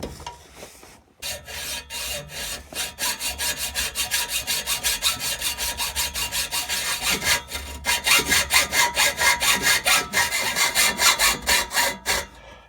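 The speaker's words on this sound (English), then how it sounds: "we're going to do this the old-fashioned way. Good old hacksaw." Rhythmic back-and-forth strokes of a hacksaw cut through a V6 Camaro's muffler pipe, close and loud, speeding up into quick regular rasps toward the end after a brief pause, with no talking.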